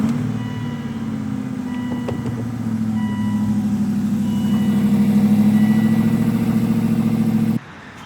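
An Aston Martin engine turns over after the start button is pressed, then settles into a steady, loud, low idle lasting several seconds before cutting off abruptly near the end.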